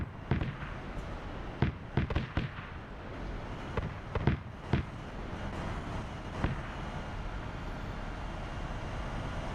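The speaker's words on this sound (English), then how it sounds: "So you hear them firing." Weapons firing in a mission video game set to maximum, scattered sharp bursts and cracks, some in quick clusters, over a steady rumbling background with no talk.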